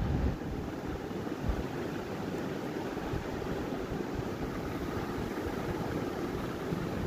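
Spices in a hot pan with water, salt and turmeric added give a steady, loud, close sizzle and hiss that holds evenly throughout with no voices.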